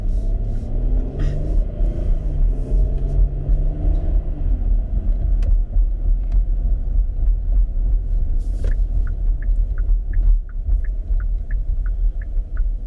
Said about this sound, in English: We're going to drop this down into drive, and away we go.